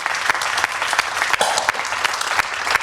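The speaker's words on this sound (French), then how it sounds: "On te remercie, tu es applaudi" Applause from a conference audience, a mid-sized group clapping with distinct individual claps standing out irregularly against the steady patter, fairly close and loud throughout.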